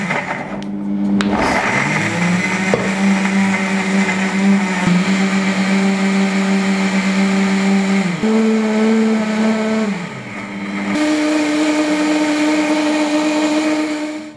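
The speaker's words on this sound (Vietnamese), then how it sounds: "Mình sẽ xay với chế độ là vệ sinh máy nhé." A high-power blender purées pumpkin and eggs on its cleaning-mode setting. The loud, close motor roars continuously with a strong hum, and its pitch steps up and down several times as the speed changes.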